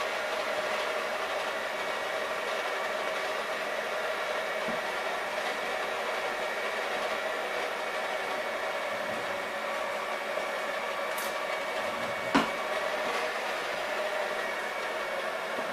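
A stand mixer runs on low, blending the dry ingredients for gluten-free bread, giving a steady, even whirring hum that carries on without a break for the whole stretch, with no voices.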